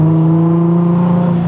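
A Nissan GT-R's V6 engine revving on a small country road, a loud close droning growl with a strong steady low tone and harmonics, holding its pitch with a slight waver and no voices.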